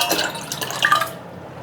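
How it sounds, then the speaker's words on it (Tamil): Lentil water pours and splashes briefly into a cooking pot, close by, then trails off into quiet. "அடுத்து வந்து பருப்பு தண்ணி ஊற்றிக்கலாங்க."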